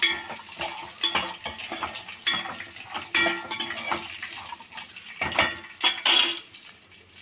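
Raw ivy gourds, half a kilo, sizzle and are stirred in a pan, with soft crackling and repeated scraping clatters coming in uneven bursts at close range.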